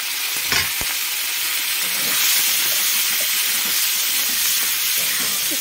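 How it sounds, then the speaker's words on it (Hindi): Fish sizzles and crackles in hot oil, a loud, steady bubbling hiss with a few sharp pops near the start, close by and without talk. "तेल गरम हो चुका है, अब इसमें हम मछली को भाज लेंगे"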